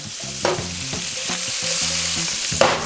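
Jumbo shrimp fry in a hot pan with a close, steady sizzle, broken by a few quick scraping stirs and rattling knocks from the utensil.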